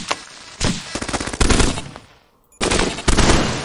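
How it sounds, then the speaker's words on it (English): Rapid bursts of machine-gun-like gunfire shooting at a shock bot in the video game Polybot7, loud and close, with two sustained volleys split by a short pause. "now shoot up at that shock bot above you"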